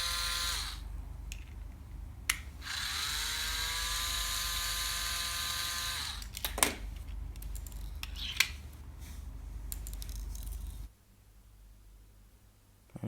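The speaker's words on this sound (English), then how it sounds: "So just unscrew each and every single one of those." Screws being unscrewed from a light bar with a powered driver: a steady whirring motor run that rises in pitch, then several short clicks and clatters, fairly close, with no one talking.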